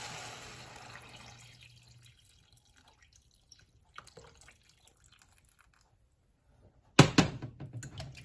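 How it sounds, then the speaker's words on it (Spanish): Water is added to a cooking pot holding chopped leek for pumpkin soup; a near-silent stretch with a few small drips gives way to a sudden loud splash and rush near the end. "Le agrego el agua."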